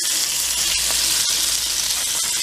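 Seasoned regular hamburger patties sizzle loudly and steadily in a hot frying pan while being flipped, with a couple of faint clicks or taps under the dense, continuous hiss.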